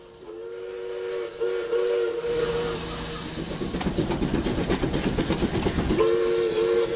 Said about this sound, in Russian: Паровоз и 14 вагонов, украшенных гирляндами и игрушками.